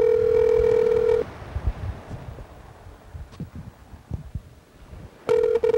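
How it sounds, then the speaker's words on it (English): Telephone call placed from a game or show setup: a steady ringback tone sounds, falls silent amid faint rustling and small knocks, then the same ring tone returns loudly at the end. "Oh, we could call Freddie the producer though"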